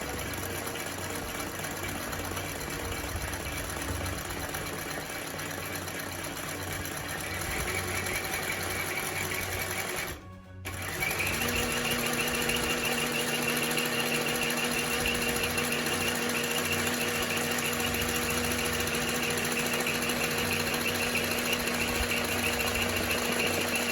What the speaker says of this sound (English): Start slow, make sure the machine is running good.